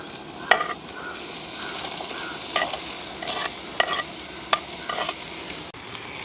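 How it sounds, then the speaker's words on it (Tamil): Lotus root tossed in hot oil with onion, green chili and garlic, a steady broad sizzle with repeated scraping stirs of a spoon against the pan, close and fairly loud, no talking. "இந்த தாமரை கிழங்கு வந்து இந்த எண்ணெயில் வந்து எங்களுக்கு நல்லா வதங்க வேணும்"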